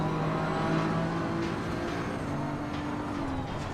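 A BMW M4 race car in the Assetto Corsa Competizione racing game drones along at Spa, its engine note holding steady at high revs with slight pitch shifts and no voices over it.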